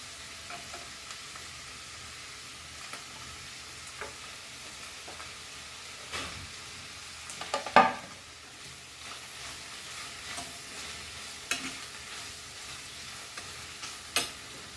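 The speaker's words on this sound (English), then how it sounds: "Fry this nicely, and now we will add our chilies," Goan clams stir-fry in a pan with chilies and tomato, a steady close sizzle broken by scraping spatula strokes and one louder clattering stir midway.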